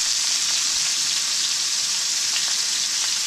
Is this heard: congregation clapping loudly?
no